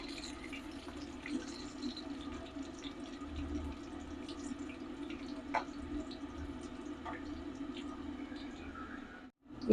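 Jaffna-style fish rolls fry in oil, a quiet, steady sizzle dotted with small crackles and pops that continues evenly before a short break at the end.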